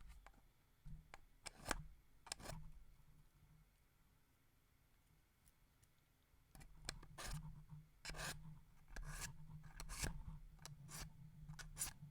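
Close-up scissors snipping in two bursts of quick, crisp cuts separated by a quiet pause, with light handling noise.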